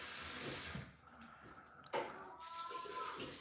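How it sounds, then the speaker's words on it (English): Food being rinsed under running tap water in a sink, a hissing stream with splashes and a sharp clatter near the middle; a voice talks over it. "Am I the only one that washes until the water becomes clear?"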